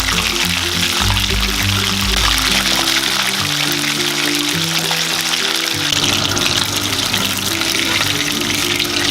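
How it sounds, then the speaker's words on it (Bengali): Bombay duck (loitta) fish frying in oil over a low flame, a dense, loud, steady hiss and crackle that continues unbroken, no voices. "সব লোটে মাছগুলি আমি এইভাবে এক এক করে ভেজে নেব।"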